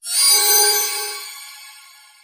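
A phone ringtone plays a single bright, bell-like chime that starts sharply, rings loud and close, then fades away slowly over about two seconds.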